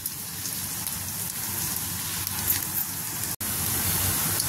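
Green chillies and onion roast in a hot pan for a matki usal, giving a steady, close crackling sizzle that continues without a break apart from one brief dropout near the end.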